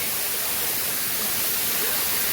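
The Aanayadikuthu waterfall near Thommankuthu in Idukki roars as a loud, unbroken hiss of falling water, close by and steady with no other sounds.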